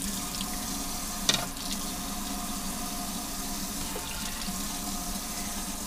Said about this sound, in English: It had egg on it, so you want to make sure you wash it down good.